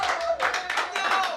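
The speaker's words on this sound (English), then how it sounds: "Round of applause for the 46er." Audience applause at an arena game night, a short burst of dense clapping from a crowd, loud and close, with voices mixed in.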